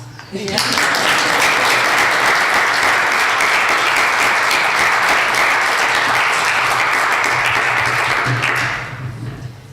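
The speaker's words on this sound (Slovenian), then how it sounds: "Aplavz." Sustained audience applause at a State Council ceremony marking International Women's Day, loud and dense, starting abruptly and holding steady for about eight seconds before tapering off.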